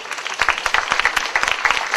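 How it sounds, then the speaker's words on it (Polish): Close, lively applause from the audience at the finale of a garden theatre contest held outdoors in the Frascati gardens, with brisk overlapping claps throughout the short stretch. "Wielkie brawa, bardzo dziękujemy."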